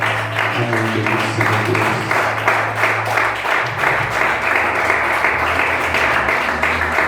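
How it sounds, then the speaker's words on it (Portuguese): A church congregation claps through a worship service, a dense, continuous wash of applause over a low sustained organ or keyboard drone, steady and fairly loud throughout. "Em nome de Jesus, aplauda o nome do Senhor."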